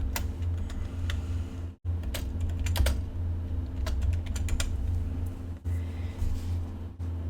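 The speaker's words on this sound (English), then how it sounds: "click left, and type in the title of the book." Keys clatter on a computer keyboard as a book title is typed, quick irregular taps in bursts with brief pauses, close and clear over a low steady room hum.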